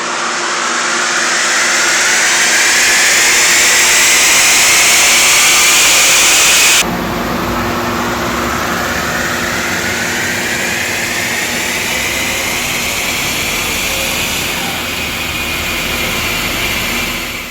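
A Ford Explorer ST engine on a dyno roars at full throttle, pitch climbing steadily through the gears in one long loud pull, then a sharp shift drop and a second rising run, with no voices.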